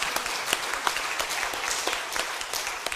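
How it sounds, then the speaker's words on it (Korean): Church congregation applauding together after a call to encourage sick members, a steady dense clatter of many hands clapping throughout, fairly close and loud, with no talk over it. "우리 격려의 박수를 좀 한번 좀 보내시기 바랍니다"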